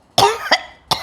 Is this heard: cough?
yes